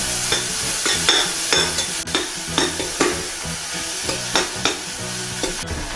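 Onion, green onion and garlic stir-fry in melted butter in a pan, a steady close sizzle broken by repeated scraping stirs every half second or so.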